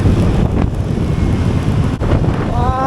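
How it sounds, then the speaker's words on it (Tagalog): Strong wind buffeting the microphone on a long ride along a bridge road, a continuous loud roaring rush with brief dips, no clear voices. "Grabe, lakas ng hangin dito."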